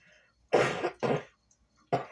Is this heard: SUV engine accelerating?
no